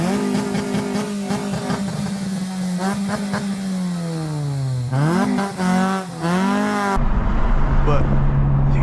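A 2025 Honda Civic Type R with a dual resonator delete exhaust drones loudly at steady revs, then climbs in a couple of quick rev blips before a cut to road and wind rumble.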